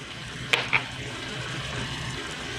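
Tomatoes with dry powdered spices (black pepper, turmeric, Kashmiri red chili, coriander) sauté for a Kerala-style prawn curry, a soft steady sizzle marked by two quick clinks of a utensil against the pan early on.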